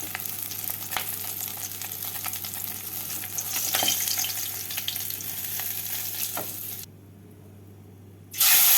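Mrigal fish frying in oil in a kadai, a close continuous sizzle with scattered crackles that swells midway, then cuts off abruptly near the end before a brief loud burst returns.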